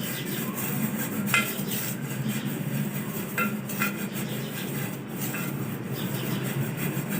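Oil being rubbed over butter paper lining a cake pan for an eggless mango cake, a steady soft scraping and brushing against metal with a few light clinks, close and continuous with no talking.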